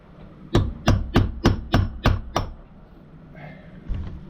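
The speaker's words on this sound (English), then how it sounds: "And I'll just drive this one out real quick." A hinge pin is driven out of a multitool. Seven sharp, evenly spaced metallic taps come in quick succession, close by, followed by faint handling noise.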